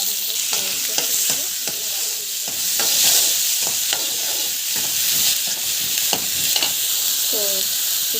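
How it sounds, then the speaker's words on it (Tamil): Garlic, onion and chili sauté in hot oil with a steady close sizzle, while a spoon stirs and scrapes through the pan in repeated irregular clatters. "போட்டு நல்லா வந்து வதக்கிடுங்க. நல்லா வதக்கணும்."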